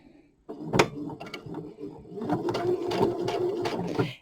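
Sewing machine stitching quilt pieces together without backstitching, starting after a brief pause with a close, steady mechanical whir and rapid needle chatter that grows slightly louder and continues to the end.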